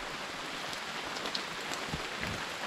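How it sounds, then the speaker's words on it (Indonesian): Light rain falling on a mountain hike, a soft, even hiss of drops pattering on surfaces nearby, with occasional slightly louder individual drops and no voices. "Untungnya hari ini nih masih hujan-hujan cantik aja, belum sampai yang badai gitu."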